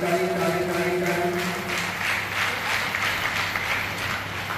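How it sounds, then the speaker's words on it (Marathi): An audience applauds at a retirement felicitation ceremony, with dense, continuous clapping from a crowd that holds steady in volume. "टाळी टाळी टाळी वाजवायचे"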